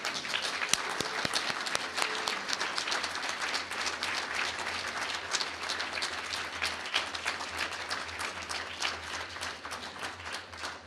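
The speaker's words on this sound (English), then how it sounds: "Please give Kevin a warm round of applause for his dedication." Sustained applause from a large audience at a human rights awards breakfast honoring a recipient, dense steady clapping filling the room for the whole stretch without a break.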